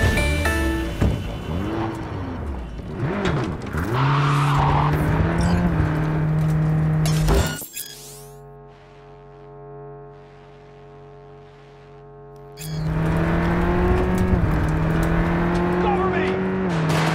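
Cars in a Cyberpunk 2077 police chase rev hard and squeal their tires at close range, with engine drone rising and falling and voices talking over the action.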